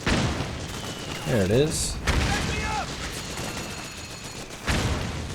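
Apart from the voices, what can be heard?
mortar fire explosions in video game Metal Gear Solid 4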